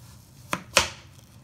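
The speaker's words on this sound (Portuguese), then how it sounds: "Vou cortar aqui meia cebola." Two sharp knife chops through half an onion on a cutting board, the second louder, in a quiet kitchen with no talking.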